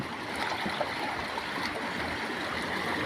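A strong, swift river current flows in a continuous gurgling wash, steady and fairly close, with no speech over it.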